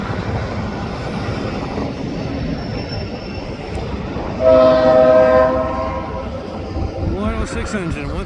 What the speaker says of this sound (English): Engine once again in the lead for the eastbound shop train.